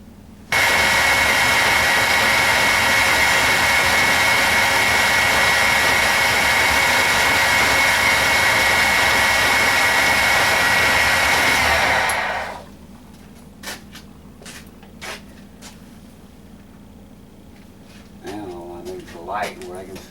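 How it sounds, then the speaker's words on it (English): Grinder lightly grinding metal, a loud, steady whine running continuously for about twelve seconds up close, then cutting off to quiet clicks and a voice talking. "I'm going to very lightly grind it and take a little look-see at it"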